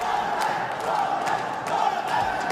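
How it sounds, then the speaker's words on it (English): A large crowd at an esports arena in France roars and chants for a PUBG Mobile team, a dense, sustained wall of voices with rhythmic surges, loud and continuous. "The ferocious crowd here in France giving them their energy. Chant after chant, screaming the name GodLike"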